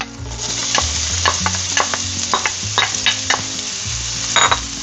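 Onions drop into a hot pan of browned beef for a stew, and a loud, dense sizzle follows with repeated sharp scrapes and clacks of a utensil stirring close by; no voices.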